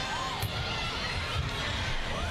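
A packed arena crowd of UP fans roars and cheers at a UAAP Season 81 women's volleyball match between DLSU and UP, a steady, dense wall of noise throughout.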